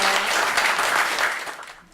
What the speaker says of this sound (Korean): 다시 한번 오늘 강의해주신 정 회장님께 칭찬 박수 한번 부탁드립니다